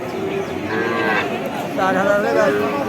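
Cattle lowing at a calf market selling heifer calves, two drawn-out moos close by over a noisy crowd murmur.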